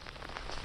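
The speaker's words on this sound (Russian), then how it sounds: "Этот дождь." Steady rain pattering on rocks during a thunderstorm on a fishing trip along a stony shore, a dense continuous hiss that stays close and even throughout the short stretch.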